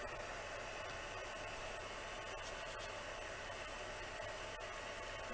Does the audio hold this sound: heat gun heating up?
yes